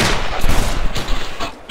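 Loud, continuous gunfire in the video game Battlefield 2, a dense wash of close shots and blasts filling the whole short stretch with no clear gaps.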